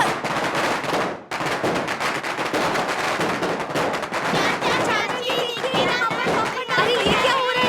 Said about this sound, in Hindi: अरे ये पटाखा का आवाज कैसा है? कौन फोड़ रहा है?